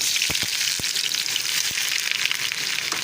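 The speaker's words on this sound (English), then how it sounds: "I will fry the onion till they turn light golden in color" Sliced onions sizzle and crackle steadily in hot oil while frying for haleem, with a few sharp clicks and scrapes from stirring.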